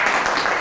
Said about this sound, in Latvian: Tā kā divreiz skaļāki aplausi.